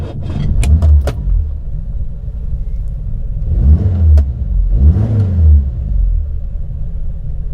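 A Triumph 1300's engine cranks with sharp clicks, fires up and revs several times in loud, close, rumbling swells, its loose exhaust giving a rattly edge to a steady, throbbing idle between revs.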